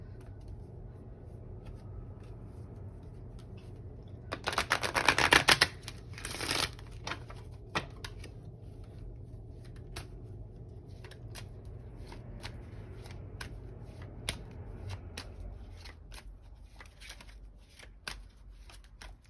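Oracle cards shuffled briefly in a loud, dense riffling burst, then a softer flick as one card is drawn, followed by near silence with faint handling noises.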